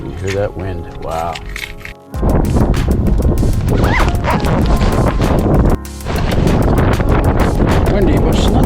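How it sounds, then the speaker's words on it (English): Strong winter wind roars against the microphone outdoors at Irving Nature Park in Saint John, New Brunswick, a loud, buffeting rush that drowns everything after someone briefly speaks, dropping out for a moment before surging again. "Hear that wind."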